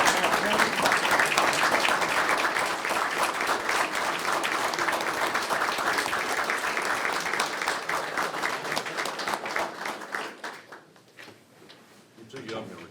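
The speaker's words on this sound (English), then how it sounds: "Let's give her a round of applause and thank her for her service." A meeting audience applauds a retiring health department employee, with loud sustained clapping that gradually thins and fades near the end, a few voices mixed in.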